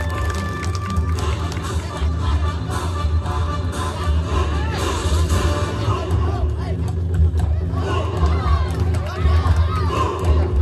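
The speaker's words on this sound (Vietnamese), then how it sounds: "Xin quý vị khán giả tán thưởng hai võ sĩ một tràng pháo tay." Crowd at a Bình Định kickboxing fight night cheers and applauds two fighters in a dense, continuous roar of noise and hubbub, loud and sustained throughout.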